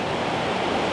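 The waterfall at Betws y Coed, its moss-covered falls sending up a loud, steady rushing roar of water from close by, with no voices.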